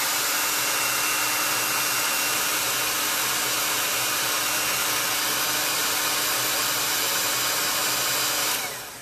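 A hair dryer blows steadily and loudly to dry paint on a T-shirt, its constant airy roar running uninterrupted before cutting off at the very end, with no voices.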